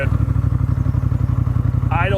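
A Polaris Sportsman XP 1000 High Lifter Edition ATV engine idles up close in a loud, even, pulsing chug, with a voice briefly cutting in at the end.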